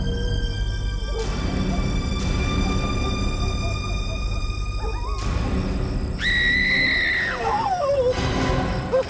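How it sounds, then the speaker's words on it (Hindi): A woman's high, drawn-out screams rise over a loud, dense background of dramatic music in a scene about a vanishing spirit in a cellar full of skeletons. The screams come in several strained bursts. "कुछ चीखने की आवाज?"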